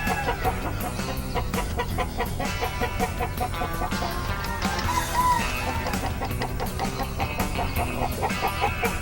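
An Albany gamecock rooster crows in a breeder's pens among other roosters and hens. Clucking and crowing mix in a steady, busy farmyard chorus at moderate distance.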